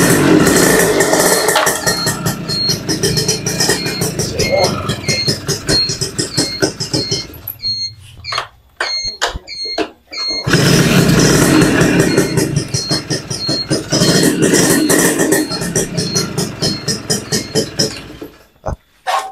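A used 125cc Garuda motorcycle engine runs with a steady mechanical chatter, dropping away briefly mid-clip before restarting and idling on, loud and close, with a voice speaking intermittently.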